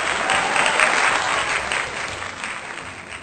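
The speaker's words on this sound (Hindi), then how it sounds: "जोरदार तालियां डॉक्टर राधा पांडे जी के लिए" Sustained audience applause for Dr. Radha Pandey at a Raksha Bandhan poetry gathering, a dense, steady wash of many hands clapping at once, loud and close, fading slightly toward the end.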